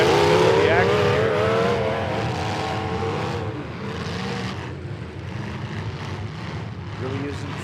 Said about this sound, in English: Really using some throttle there.